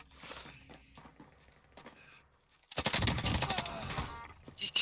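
Gunfire in the online shooter Warzone: a short burst at the start, then dense, loud rapid shots and impacts from about the three-second mark to the end, with a few quieter footstep-like taps in between.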